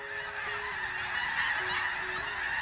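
A flock of snow geese honks continuously over a dense, steady wash of calls, heard at a distance in the open with no voices.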